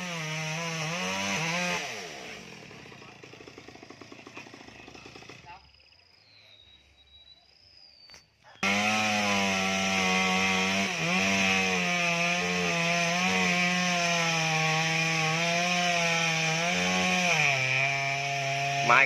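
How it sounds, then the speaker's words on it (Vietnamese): A chainsaw cuts into the base of a large melaleuca tree trunk, loud and steady. It pauses briefly midway with quieter background, then roars back and keeps whining continuously. "Đó giờ anh xuống anh cưa gốc đó các bạn."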